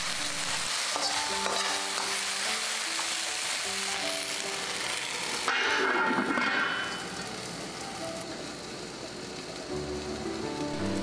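Eggplant fries and chars in a pan for garlic-sauce stir fry, with a loud sustained sizzle and crackle that swells briefly midway, then settles into a softer, steady frying hiss, likely under a lid.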